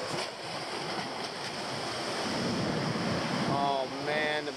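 Ocean surf crashes and hisses steadily along a Hawaiian shore, with wind buffeting the microphone throughout and a brief voice near the end.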